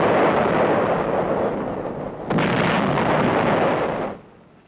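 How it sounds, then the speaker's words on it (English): A 155 mm howitzer fires in wartime, one booming blast that rolls on, then a second sharp report about halfway through followed by a long rumbling decay that fades at the end. "155 howitzer is zeroed in."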